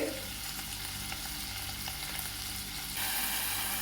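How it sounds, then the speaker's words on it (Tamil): Chopped garlic and green chillies fry in hot oil in a pan, giving a steady close sizzle that swells louder near the end. "பொடியாக நறுக்குன பூண்டு போட்டுக்கலாங்க ரெண்டு பச்சை மிளகாய்"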